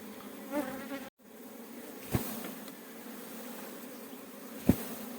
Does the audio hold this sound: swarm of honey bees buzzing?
yes